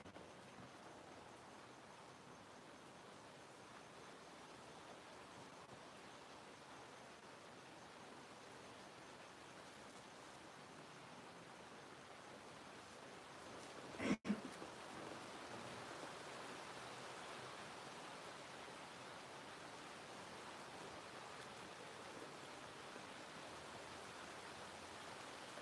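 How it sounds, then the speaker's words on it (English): Gentle rain falls as a faint, even hiss throughout, with a single brief knock partway through and no speech. "Tinkle, tinkle of rain."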